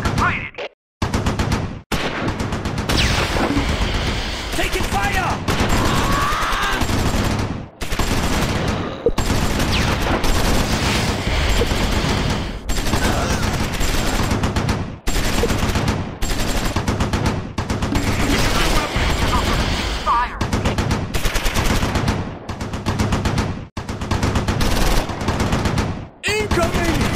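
Video-game gunfire rattles in rapid automatic bursts, loud and nearly continuous, broken by brief pauses between volleys, with voices talking over the shooting.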